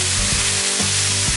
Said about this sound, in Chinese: 倒入豆芽和青红辣椒一起炒